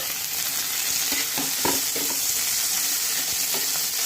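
Tomato and onion frying in a pan for a paneer curry, a constant close sizzle with intermittent spatula scrapes and stirs, no voices.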